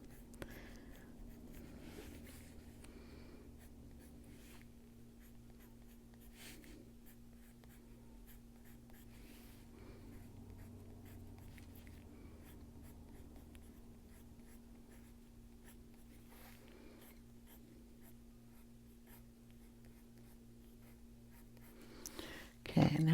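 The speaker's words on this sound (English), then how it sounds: "we'll just add some extra lines in here. Turning the pencil and making sure we have a sharp point." Soft, steady scratching of a Chromaflow coloured pencil drawing lines on paper, quiet and close, continuing with little change in rhythm and a sharper rustle right at the end.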